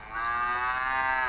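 A cow gives one sustained, loud moo with a steady harmonic tone, heard alone without talk.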